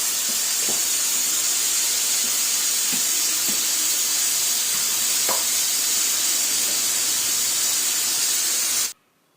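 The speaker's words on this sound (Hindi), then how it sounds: "इस प्रेशर कुकर की जो आवाज़ है ना" A pressure cooker hisses loudly with a continuous jet of steam, a few faint clicks underneath, until the sound stops abruptly.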